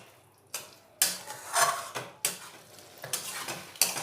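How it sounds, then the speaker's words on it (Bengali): Potatoes with spices and a little sugar being stirred and sautéed in a pan, heard as a series of scraping strokes from a spoon against the pan, roughly one every half second, over a soft sizzle. "সামান্য চিনি দিয়ে খুব ভালোভাবে কষিয়ে নেব।"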